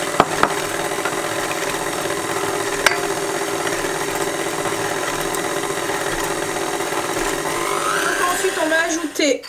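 Batter of sugar and eggs being mixed, most likely with an electric mixer, making a loud, steady motor whir that runs the whole time with a few clicks and rises slightly at the end.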